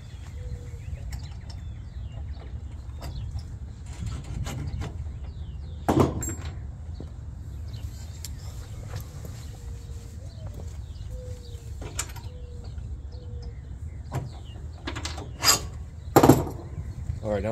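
A removable wooden side wall on a Harbor Freight utility trailer is lifted out of its corner brackets, making faint rubbing and scraping with a few sharper knocks and clunks that stand out near the middle and near the end.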